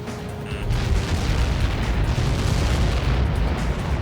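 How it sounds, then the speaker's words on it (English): Video game explosion from Ace Combat 7 Skies Unknown as a projectile impacts, a loud sustained roaring boom with deep rumble that fills the whole clip without speech. "How many got caught in that explosion?"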